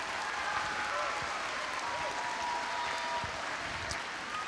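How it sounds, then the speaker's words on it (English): Audience applause at a choir concert, a dense steady clapping that carries on evenly throughout without pause. "we just give him a round of applause for all the work he's done"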